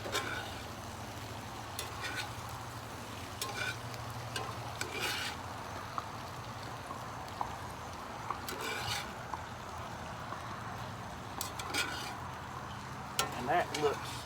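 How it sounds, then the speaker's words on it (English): Smoked turkey sausage stirred through sizzling onions, peppers and zucchini in a pan, a steady low frying hiss broken by scattered scraping and clinking strokes of the spatula, continuing for a long stretch. "now I'm going to take this sausage and I'm going to give it a good stir."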